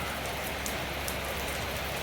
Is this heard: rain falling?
yes